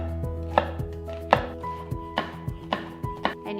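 A knife chops an onion into a small mince on a board: about a dozen crisp, close knocks in an uneven rhythm, with no talking.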